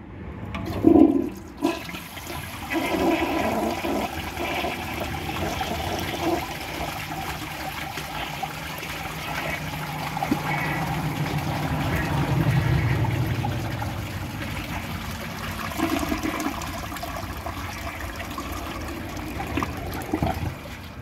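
A 1984 Kohler Cayuga toilet flushes during a dirt test, with a loud rushing whoosh that settles into a steady, swirling drain and then a long trickle and gurgle as the tank refills, with no talk.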